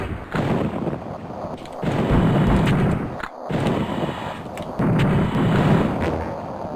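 Frag grenades blasting in a shooter video game, heavy booming explosions rolling one into the next in loud, sustained waves with a brief gap midway.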